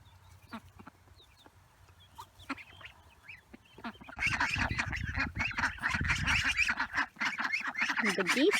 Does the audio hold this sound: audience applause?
no